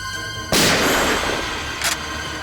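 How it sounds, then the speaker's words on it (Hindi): A single sharp gunshot cracks out loud and close during a tense confrontation in a crime drama, followed by a fainter second report about a second and a half later, with room tone lingering between. "गोली चला।"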